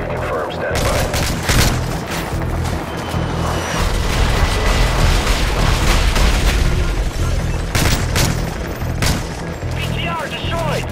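Air strike explosions destroying a vehicle in Modern Warfare 3, loud heavy blasts and rapid bursts of gunfire piling up continuously, with a radio voice heard amid the chaos.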